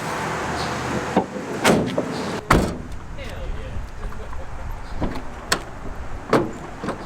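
The sliding door of a Nissan NV200 van being converted into a camper, with a fresh plywood floor fitted, shuts with several sharp thumps and clunks over a few seconds, close by, amid workshop background noise.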